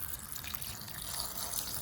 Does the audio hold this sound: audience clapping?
no